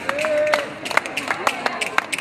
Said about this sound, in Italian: L'applauso al gruppo operaio